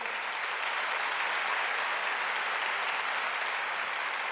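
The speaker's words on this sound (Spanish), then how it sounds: "Dale ese aplauso fuerte, Señor." A church congregation applauds steadily and evenly, a dense wash of many hands clapping at constant level for several seconds, with no voices standing out.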